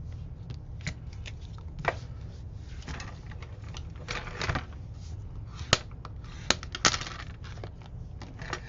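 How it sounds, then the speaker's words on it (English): Double-sided tape is pressed onto a piece of chipboard for a handmade card box, giving quiet papery rustles and crinkles punctuated by a few sharp little clicks and snaps, close up and soft, without speech. "So I'm going to add double-sided tape to this."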